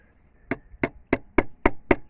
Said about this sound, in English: I gotta hammer it a bit for it to move.